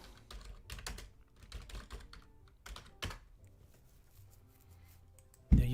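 Computer keyboard typing, a run of quick uneven key clicks close by, pausing briefly and ending with a sharper louder tap.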